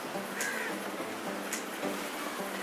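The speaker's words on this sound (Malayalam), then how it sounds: "മഴയത്ത് രക്ഷപ്പെടാൻ വേണ്ടി എല്ലാ കിളികളും കൂടി ഓടണാണ്." Harsh crow caws ring out a few times at uneven intervals over a steady background hiss of sunny-day rain, as birds fly back to their nests.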